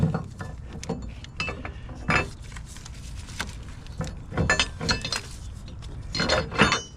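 Metal clinks and clanks as a transmission mount bracket goes back onto a 2009-2013 Mazda, scattered irregular taps and knocks of varying loudness, close by, with no talking.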